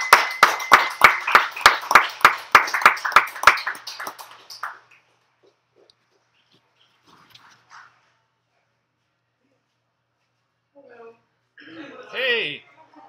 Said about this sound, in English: Let's give a big round of applause for Melissa.